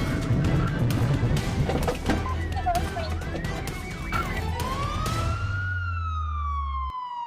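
A police siren wails loudly and continuously during a high-speed chase in Atlanta, its pitch sweeping up and down over heavy traffic rumble, then trailing off into a steady tone.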